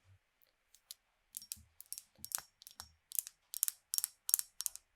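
Soft ASMR keyboard typing, close and quiet: sparse taps at first, then a quicker run of crisp clicking keystrokes in small irregular clusters, with no talking.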